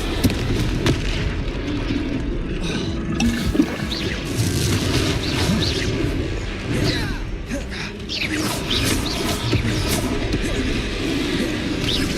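Dense, continuous rumbling blasts and crashing impacts from a Confringo blasting curse in a Hogwarts Legacy troll fight, loud and sustained throughout with no pause, mixed with battle noise.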